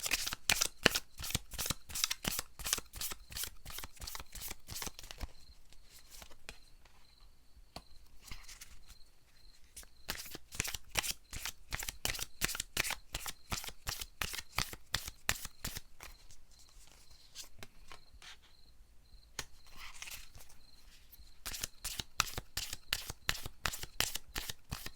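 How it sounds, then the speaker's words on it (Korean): Tarot cards being shuffled and drawn in rapid riffling bursts that run almost continuously, with brief quieter gaps between runs, close-up and crisp, without talking. "카드를 조금만 더 뽑아볼게요"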